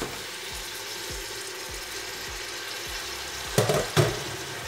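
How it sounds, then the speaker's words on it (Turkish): Frozen green beans with ice tipped into sizzling fried tomato paste in a pan give a steady hiss and sizzle, with a few sharp clatters near the end and no talking. "Salçamı ekleyip şöyle biraz kavurduktan sonra İçerisine buzuyla birlikte fasulyeleri ekliyorum böyle."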